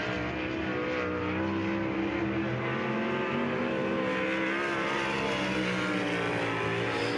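A sprint race car at speed on the Texas Motor Speedway oval, its engine roaring loud and steady the whole time with rising and falling pitch, no talk over it.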